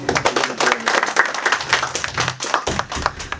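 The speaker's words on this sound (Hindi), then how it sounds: "आप सभी अपने लिए वह तालियां बजा दें।" An audience at a Hindi poetry recital breaks into applause, a dense burst of many hands clapping that carries on steadily at moderate loudness.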